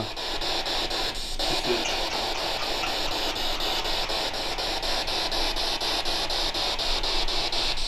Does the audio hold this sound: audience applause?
no